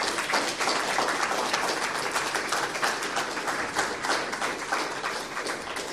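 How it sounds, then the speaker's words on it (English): Steady audience applause at a literary lecture event, dense sustained clapping at an even level throughout with no talk over it. "let's give them another round of applause."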